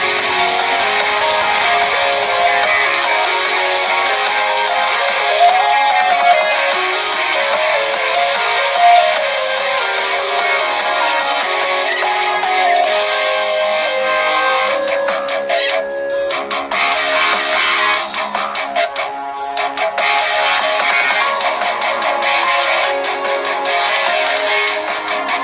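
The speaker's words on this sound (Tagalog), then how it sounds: "Ito ang tunog ng speaker." Music plays through a smartphone's single built-in loudspeaker, thin and bright with little bass, steady and loud for the whole stretch with no talking over it.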